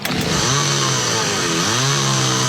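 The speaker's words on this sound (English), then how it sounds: "You wouldn't operate a chainsaw blindfolded." A chainsaw runs loud and steady in a radio advert, its engine whine dipping and rising in pitch as the throttle shifts, filling the whole moment without any talk.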